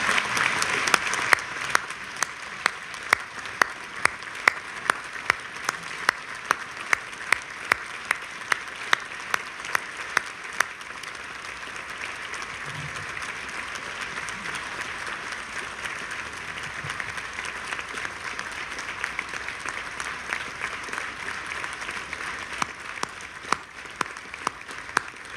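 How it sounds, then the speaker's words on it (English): An audience applauds governors and first ladies at a State of the State address, a sustained burst of many hands clapping that fills the room and then slowly thins and fades. "I hope I get half that applause."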